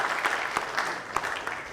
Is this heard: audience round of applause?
yes